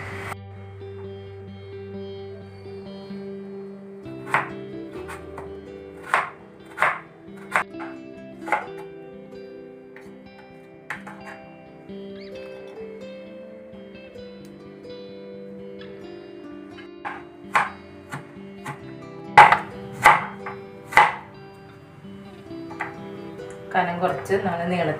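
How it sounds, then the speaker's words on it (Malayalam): A knife chops elephant foot yam into thin strips, giving a series of sharp, separate knocks on the board with irregular pauses between them, close and fairly loud over a steady low background hum. "അപ്പം ഇങ്ങനെ നമുക്ക് ഇതെല്ലാം നുറുക്കിയെടുക്കാം."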